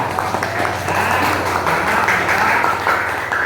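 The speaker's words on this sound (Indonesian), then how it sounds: "Tepuk tangan buat kalian." Classroom applause from students praised by their teacher after a lesson, a steady dense patter of many hands clapping together at a fairly loud level, holding evenly for the whole stretch with no talk over it.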